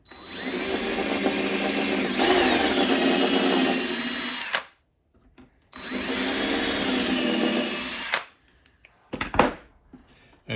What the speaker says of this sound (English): then I come back in with a self-centering bit.